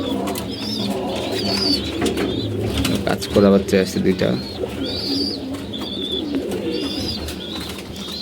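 Pigeons coo steadily in a loft, low rounded calls repeating throughout while someone talks over them close by.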